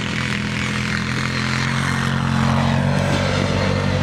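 A new Arctic Cat Wildcat V-twin side-by-side drives on the dunes at Little Sahara, its engine a loud, continuous droning roar that swells slightly toward the end, with no voices.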